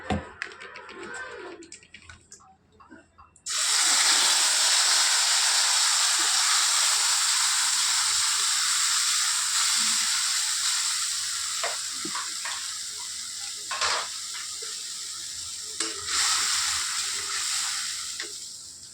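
A paste of tomato, green chili, ginger and cumin hits hot oil with bay leaf and black cardamom, bursting into a loud, continuous sizzle with occasional stirring clicks that slowly eases.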